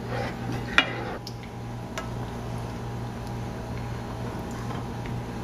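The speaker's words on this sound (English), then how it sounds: "I'm going to keep stirring this until my milk is thickened" Almond milk stirred in a pan on the stove until it thickens, a steady low simmering hum with soft scraping of a utensil and one sharp clink of metal on the pan early on.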